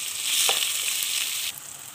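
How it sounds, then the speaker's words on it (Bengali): Sliced onions frying in hot oil in a pan, giving a steady close hiss with a brief knock partway through, the sizzle dropping a little in level near the end. "দুইটা পেঁয়াজ আমি দিয়ে দিলাম। এগুলো আমি ভালোভাবে ভেজে নেব।"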